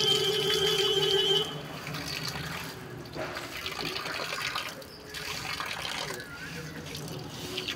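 Tap water gushing loudly at a pump by a Shiva temple, where feet are being washed; the stream splashes and shifts in tone as feet move under it, steady throughout.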